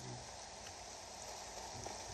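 Steady rain pattering in the video game Assassin's Creed Valhalla, a soft, even hiss of falling drops that holds constant throughout with no voices.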